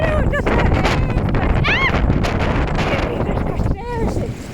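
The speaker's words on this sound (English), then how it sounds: "So windy." Gale-force wind buffeting a microphone outdoors, a loud constant roaring rumble with gusty swells, while a person talks briefly over it.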